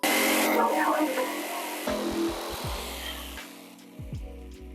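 A jigsaw cuts wood for a homemade step stool, giving a loud, steady buzzing rasp for about two seconds before it stops and a voice takes over.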